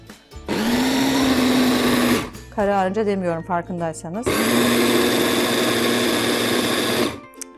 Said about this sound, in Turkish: Blender çalıştı biz sustuk.